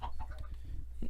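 Chickens cluck in the video game Minecraft, a run of short clucks at a steady low level with background game ambience and no talk.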